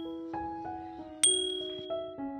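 Bright bell-like chimes ring out in a quick series of tonal notes, ending with a sharp high ding that decays, suggesting a notification jingle.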